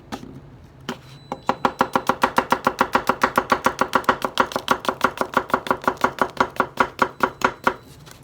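Gyuto knife slicing through produce with a tomato-like skin, a rapid, steady run of about thirty crisp chopping strokes on a board, each with a slight pop as the blade breaks the skin, close and clear with no talk.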